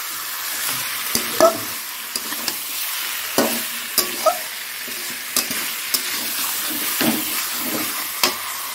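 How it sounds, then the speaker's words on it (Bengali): Chicken pieces and potatoes fry in a pan with spiced masala while being stirred, a steady soft sizzle broken by scattered scraping knocks of the spoon against the pan, close and without talk. "চিকেনটা দিয়ে আলুটা দিয়ে ভালো করে নেড়ে চেড়ে নিলাম"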